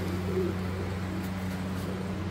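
Pigeons kept by a Punjabi pigeon fancier coo softly nearby, a low throaty murmur over a steady background hum.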